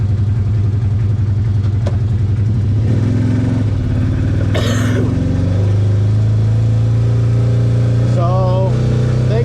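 A broken CFMOTO ATV with a shredded steering-rack gear putters along in low gear, its steady mid-pitched engine drone running continuously and close, with a brief whine near the end.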